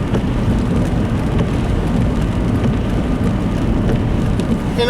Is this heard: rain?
yes